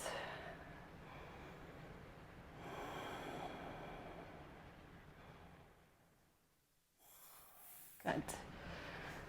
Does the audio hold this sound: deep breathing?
yes